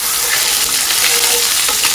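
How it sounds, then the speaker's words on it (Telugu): Onion, tomato and ginger garlic paste frying in oil in a home kitchen, a loud steady hiss and sizzle, close and unbroken, with no speech. "కాసేపు దీన్ని ఫ్రై చేసుకుందాం."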